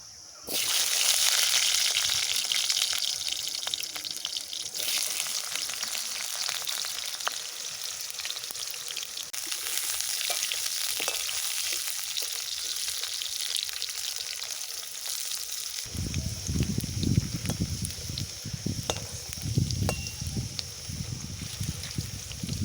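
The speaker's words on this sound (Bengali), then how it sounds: "প্রথমে সর্ষের তেলে আলুটা ভেজে নেব।" Potatoes frying in mustard oil for a village-style chicken curry, a loud continuous sizzle and crackle throughout, with clattering stirring noises and a rougher, bubblier texture toward the end.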